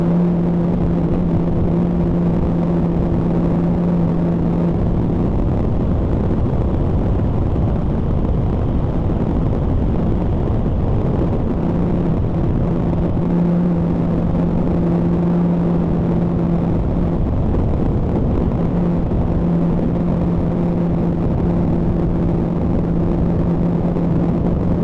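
A skid steer engine drones loud and constant nearby while its forks lower a Mack cabover truck that has a bad frame and trunnion, with a steady hum running throughout and no talk.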